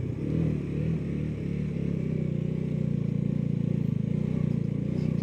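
A motorcycle engine labours in first gear on an off-road climb toward Umling La, a steady loud drone with a rapid pulsing throb that builds slightly as it climbs.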